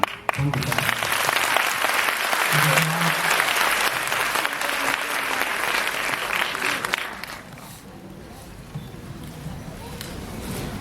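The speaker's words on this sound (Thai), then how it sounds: "ยินดีปรบมือ" A crowd claps loudly at a Thai ceremony where donations to a hospital are handed over, dense applause that runs for about seven seconds before thinning to scattered claps, with a voice briefly heard over it.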